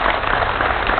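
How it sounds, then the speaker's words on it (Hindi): Studio audience applause on a TV talk show about mind reading, a dense, steady wash of clapping lasting about a second, fairly loud and close with no talk over it. "इसलिए इनके लिए जोरदार तालियां होनी चाहिए।"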